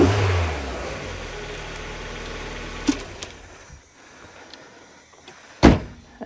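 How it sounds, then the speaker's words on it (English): A Mazda MX5 engine runs with a steady low drone for a few seconds, then drops away. Sharp mechanical clunks follow, one loud knock near the end, against quiet garage background. "And we'll give it a little rev."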